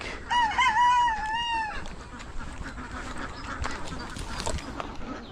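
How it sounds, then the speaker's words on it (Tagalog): Ducks call at a fenced farm lot in Nueva Ecija, a brief burst of loud, honking quacks up front followed by softer scattered calls and outdoor background noise. "Meron mga nakalagay na itik pala dito."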